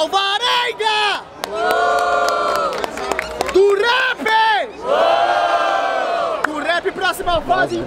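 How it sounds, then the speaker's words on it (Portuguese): A lively crowd at a freestyle rap battle in Barueri, São Paulo, cheers and shouts in loud bursts, with scattered claps mixed into the roar, rising and falling throughout. "Palmas pra essa batalha!"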